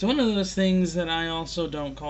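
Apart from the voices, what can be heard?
No everyday noise stands out behind the speech.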